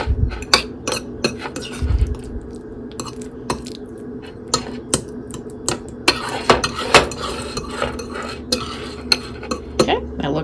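A utensil clinks and scrapes repeatedly against a bowl while olive oil, salt and pepper are mixed together, a close series of light taps and stirs.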